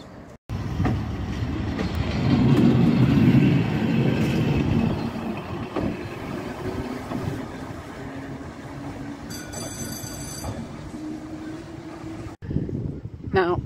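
A small train on the Volk's Electric Railway along Brighton seafront rumbles along steadily nearby, with clattering wheels and mechanical noise, a brief high whine partway through and a sharp cut near the end.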